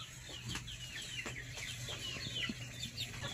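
Chickens cluck and chirp continuously at close range as they are moved into a grower pen on a farm, a busy overlapping chatter of fowl over a low steady hum, with no talking.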